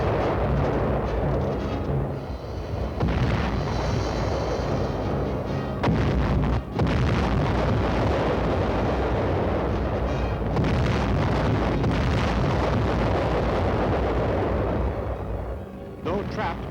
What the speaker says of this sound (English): Our artillery went into action.